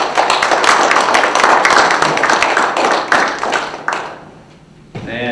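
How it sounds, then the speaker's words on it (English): A crowd gives a round of applause for local business sponsors at an event: loud, dense clapping that fades out after about four seconds, followed by a brief voice. "Please give all of these folks a round of applause."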